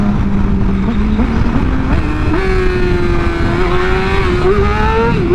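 A Yamaha R6 motorcycle engine revs loud and steady during wheelies, its pitch climbing in stepped gear changes throughout, close and alone.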